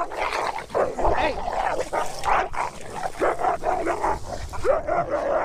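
Siberian husky dogs bark and yelp in close, repeated bursts that overlap with a person's loud shouting throughout.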